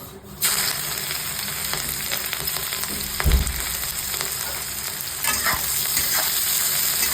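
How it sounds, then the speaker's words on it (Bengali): Carrots and beans go into a pan and fry, giving a sudden loud sizzle that holds steady while a spoon stirs and scrapes. A thump comes near the middle, and there are no voices. "দিয়ে দিলাম গাজর আর বিন।"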